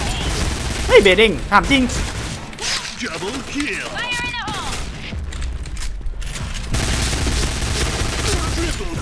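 Bursts of gunfire in a shooter video game, rapid automatic volleys and scattered shots with thuds, mixed under excited voices talking over the action throughout.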